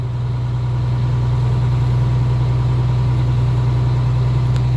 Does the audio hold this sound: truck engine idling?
yes